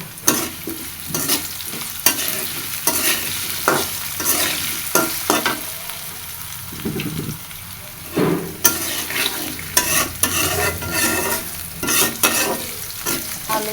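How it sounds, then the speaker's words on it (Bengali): Potatoes frying in a hot pan with salt and turmeric, stirred steadily, giving continuous close sizzling broken by repeated scraping and clattering strokes of the spoon against the pan, with no talking. "এখন হালকা লবণ হলুদ দিয়ে আলুটা ভেজে নেব"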